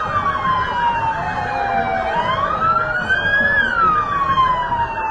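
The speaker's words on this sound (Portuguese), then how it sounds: "Toda a corporação de bombeiros passando aqui em frente ao palanque oficial, mostrando seus veículos." Fire department vehicles pass in a city-centre parade with sirens wailing loudly, their pitch rising and falling over about five seconds against steady engine and crowd rumble.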